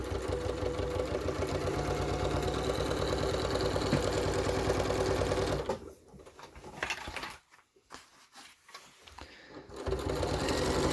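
A sewing machine stitches along a fabric pocket with a fast, continuous mechanical whir up close, then slows into short stops and restarts as the seam finishes and the stitching reverses.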